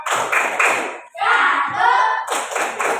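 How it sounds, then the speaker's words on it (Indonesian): Rhythmic hand clapping from the Pancasila clapping game in a second-grade Pancasila lesson. Sharp bursts of claps open and close the moment, with a voice chanting in between. "Tepuk Pancasila."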